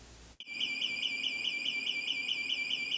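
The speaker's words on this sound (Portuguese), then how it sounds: "Quem nunca acordou no meio da noite com um alarme tocando" An electronic alarm starts abruptly after a brief lead-in and then sounds continuously, a shrill warbling tone that pulses in a fast steady cycle, loud and alone.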